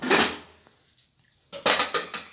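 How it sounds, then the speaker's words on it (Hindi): A pressure cooker lid is clanked off after two whistles while cooking Hyderabadi aloo gosht shorba, giving a sharp metallic rattle, a quiet pause, then a second burst of clattering metal and pot handling nearby. "अब हम लिड निकाल रहे हैं।"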